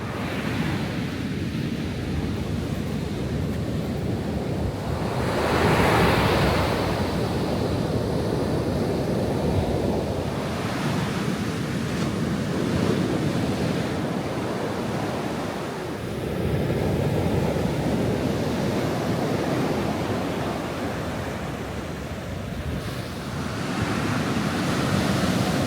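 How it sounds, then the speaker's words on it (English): Ocean surf breaks on a beach in the Los Angeles area, with a loud, continuous roar of waves that swells and recedes in slow surges while wind buffets the microphone. "we're going down, walk a little bit on a beach"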